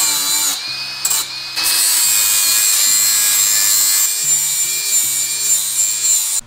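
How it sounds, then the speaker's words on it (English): Power sanding scrubs rust off the floor pan of a 2011 Ford Mustang with a steady, loud, continuous whining grind that shifts slightly in pitch as the tool moves. "we sanded this down as much as we could"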